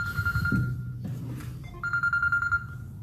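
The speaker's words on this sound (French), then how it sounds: "Il y a quelqu'un qui m'appelle, je vais devoir répondre." A telephone rings with an incoming call: two sustained electronic ring bursts separated by a brief pause, clear and fairly close, over low background noise with no speech.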